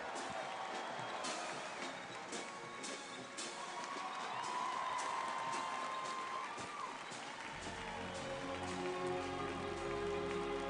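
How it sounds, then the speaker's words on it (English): Audience applause and cheering at a US Army 250th anniversary parade for the 82nd Airborne Ceremonial Band, a steady wash of clapping from a large outdoor crowd heard over background sound. "Give them a big round of applause, the 82nd Airborne Ceremonial Band"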